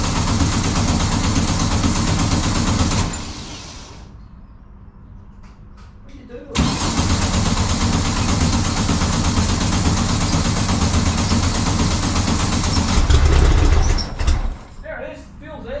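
A restored barn-find VW single cab bus fitted with a new exhaust, loud and close: it cranks, stumbles briefly to near silence, then catches and settles into a steady, rumbling idle with a brief rev before dropping away.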